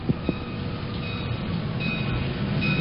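Amtrak passenger train approaching at night, a steady broad roar building slowly, with faint high whistling tones and two brief knocks near the start.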